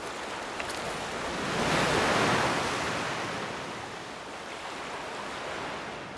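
Ocean waves battering the rocky Galapagos shoreline, a broad rushing surge that swells to a peak and then recedes into a steady wash of surf, with some wind noise across the microphone.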